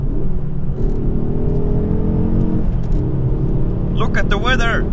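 A stock Ford Focus ST engine pulls hard from inside the car, a loud steady drone rising in pitch through the gears on winter tires, with a voice speaking over it near the end.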